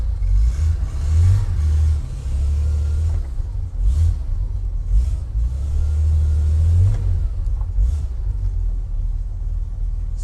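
Porsche 911 on a test drive after a DIY suspension rebuild, its engine droning with steady low rumble that swells in two longer pulls, heard from inside the car with no talking.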